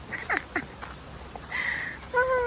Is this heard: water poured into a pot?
no